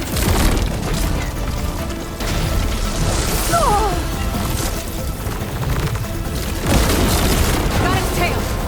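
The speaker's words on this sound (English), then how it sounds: "It's gonna explode any second!" Explosions and heavy impacts from the video game Horizon Forbidden West, loud booms and crashes mixed with game effects and a sweeping tonal whine over several seconds.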